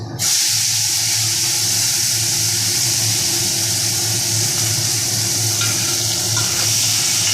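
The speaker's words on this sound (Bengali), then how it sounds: "একটা মিডিয়াম সাইজের পেঁয়াজ আমি মিহি করে কেটে নিয়েছি সেটা দিয়ে দিচ্ছি" Finely chopped onion added to hot oil with kalonji seeds, a loud, steady, dense sizzle that holds close and unbroken throughout.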